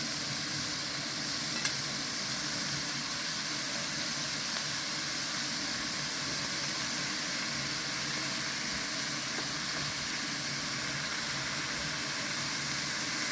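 Broccoli florets fry in a hot pan with a steady, even sizzle and hiss that carries on unbroken.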